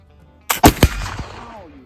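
A single sharp gunshot from a load of 24-hour wet-milled black powder, loud and close, followed by a couple of quick echoing reports and a decaying rumble.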